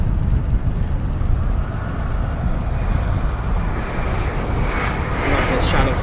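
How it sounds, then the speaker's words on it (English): Airliner at O'Hare International Airport, a broad continuous jet engine roar rising slightly toward the end, with faint talking under it. "Maybe this will be the last aircraft of the day."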